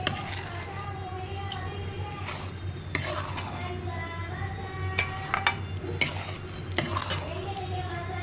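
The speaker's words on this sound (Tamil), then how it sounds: "இதை நல்லா கலந்து விட்டோன்னா அல்வா ரெடி" Carrot halwa is stirred in a pan, a spoon scraping and clinking against metal in repeated uneven strokes over a steady low hum, with faint voice in the background.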